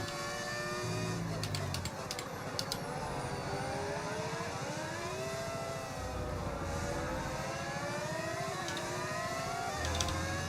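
A Lamborghini Formula 1 car in the F1 25 racing game roars at full throttle, its engine pitch climbing and then dropping in quick succession as it shifts up twice in a row, loud and steady throughout.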